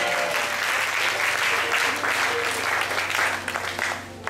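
A church congregation claps and cheers in praise of God, sustained applause filling the room with a steady broadband wash that fades slightly toward the end.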